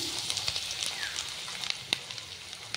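Grated garlic frying in oil gives a steady crackling sizzle with scattered sharp pops, close and continuous throughout, with no talking.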